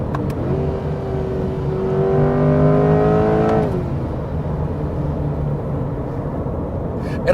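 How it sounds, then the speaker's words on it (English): A Chevrolet Corvette Stingray engine revs hard after a downshift, its pitch climbing steadily then dropping off, loud and close with steady road and engine noise continuing beneath. "I press the Z button, and now if I drop a gear or two, it gets a lot better sounding."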